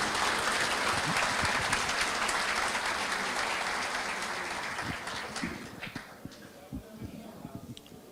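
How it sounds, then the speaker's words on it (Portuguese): An audience in a lecture hall gives a round of applause welcoming speaker Luiz Carlos Molion, dense and sustained at first, then thinning into scattered individual claps as it dies away. "Recebam com a salva de palmas o nosso palestrante Luiz Carlos Molion."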